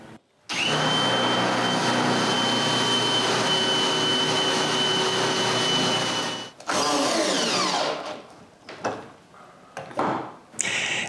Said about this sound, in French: visser directement dans le bois franc, c'est pas toujours très facile.